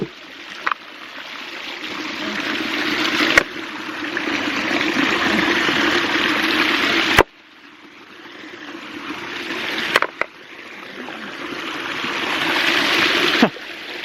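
Creek water pours steadily into a Coanda screen micro hydro intake, a continuous close rushing flow that swells after rocks are cleared, broken by a few sharp knocks and brief dips.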